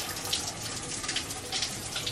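Water pours steadily from an outdoor shower at a Belize resort cabana, a close, continuous splashing rush with small flickering spatters and no voices.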